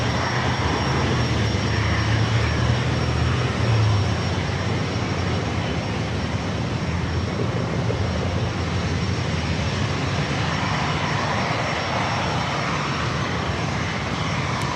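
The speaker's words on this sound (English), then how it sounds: "Lufthansa A350-900, the flight heading back to Munich." Lufthansa A350-900 departing San Diego for Munich, a loud, broad jet roar that stays strong and steady throughout.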